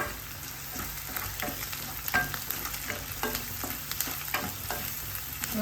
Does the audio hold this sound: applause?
no